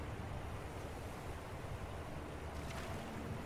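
Steady, surf-like water washes around a swimming character in Skyrim, with a constant noisy wash that stays even and soft and has no voices over it.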